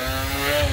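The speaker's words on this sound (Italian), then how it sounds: "vi porto nel mio primo giro in motorino." A moped engine runs with a steady, near buzzing drone, holding a fairly even pitch with a slight swell toward the end of the brief moment.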